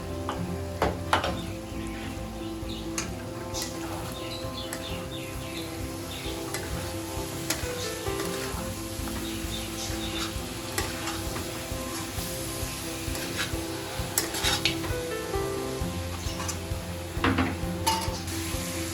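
Chicken frying in a little oil with a green chili and onion paste, stirred steadily in the pan to keep it from sticking; a continuous sizzle runs under frequent scraping and clinking of the spoon against the pan, with no talking.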